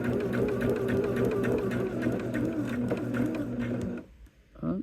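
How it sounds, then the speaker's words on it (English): A sewing machine stitches quilt fabric in one continuous close, steady mechanical whir for about four seconds, then stops abruptly, leaving near quiet with a faint noise at the end. "I'm going to come down and I'm going to sew right to this point"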